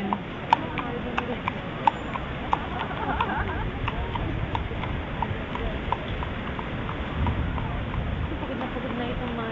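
Horses' hooves clip-clop in a steady, regular rhythm at a parade, sharp clear strikes over a constant crowd murmur with people talking close by.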